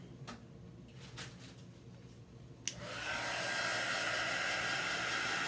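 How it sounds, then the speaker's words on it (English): Heat tool drying chalk paste on a craft surface switches on partway through with a click, then blows a steady, loud, close whooshing hiss that continues to the end after a few quieter handling sounds. "So I am using a heat tool to dry this."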